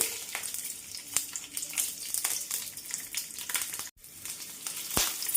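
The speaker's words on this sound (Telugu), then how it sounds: "ఇప్పుడు దీంట్లోకి పచ్చిమిరపకాయ ముక్కలు వేసుకోండి" Green chili pieces fry in about two tablespoons of hot oil in a pan, giving a soft, steady sizzle with light crackles and a brief stir or tap, fairly quiet and close, no one talking.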